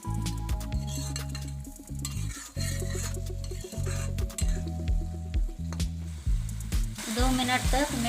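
Tomato paste cooks in a pan over medium heat for chhole, with a steady sizzle broken by repeated stirring scrapes and soft squishing, plus occasional clinks of a utensil against the pan, close and fairly loud.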